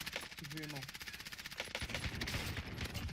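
Fast, rhythmic Call of Duty: Warzone gunshots rattle throughout in quick automatic bursts, briefly under a short spoken remark, fairly faint overall.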